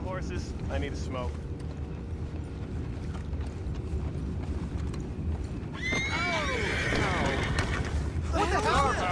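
Horses in the Red Dead Redemption 2 video game whinny loudly in shrill, wavering calls near the end, over steady rumbling ambience with soft hoof clatter.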